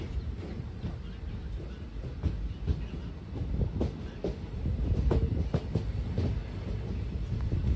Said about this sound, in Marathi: ट्रेनने पुढे कंटिन्यू करत आपल्या स्टेशन जवळ येत होते